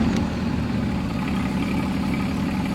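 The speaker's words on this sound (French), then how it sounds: "Elle est en route la voiture là les gars. Là elle est en route. C'est une électrique hybride, c'est normal." Hybrid electric car running after starting up, giving a steady low engine hum and rumble that stays close and constant throughout, with no talk over it.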